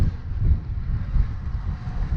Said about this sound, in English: The wind's picked up a bit as well, I think.